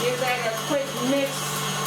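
An electric mixer whirs steadily through lemon-zested pound cake batter, a continuous motor hum with faint speech over it.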